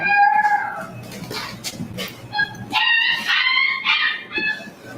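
A French bulldog gives several short yips, whines and whimpers, some high and cat-like, in a quick irregular run at close range, with a low background rumble underneath.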